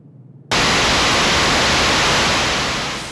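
After a brief quiet start, a sudden dense wash of dark, hissing electronic noise takes over and holds steady, slowly fading toward the end.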